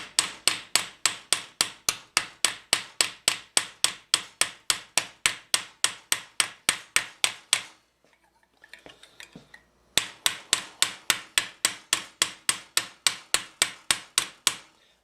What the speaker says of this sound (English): I'm hammering this way because I'm kind of pushing the metal in